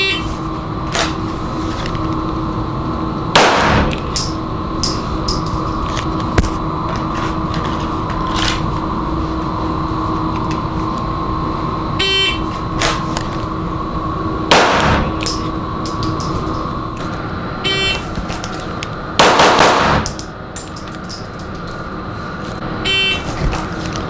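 Handgun shots during a drawing drill at a range, several separate loud bangs spaced seconds apart, a few fired in quick pairs, over steady background noise.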